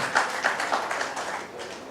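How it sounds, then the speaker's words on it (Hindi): Applause from the audience at a Ghalib Academy mushaira poetry gathering in New Delhi, a soft wash of many hands clapping at a distance, fading slightly toward the end. "जोरदार तालियों से हज़रात"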